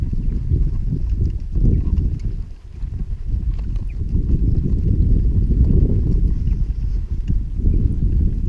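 A horse in harness trots down a straightaway while being driven, its hooves making a steady clip-clop over a continuous low rumble from start to finish, with no talking.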